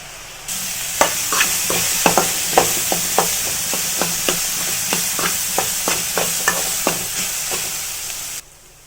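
Bitter gourd frying in oil in a pan, a constant hiss of sizzling broken by roughly twenty sharp scraping stirs at a steady, regular pace, close and clear with no talk.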